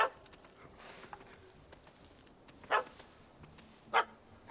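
A dog in The Witcher 3 video game barks three times, short sharp yaps spread out over a quiet ambient background, the first at the very start and the others later, spaced apart.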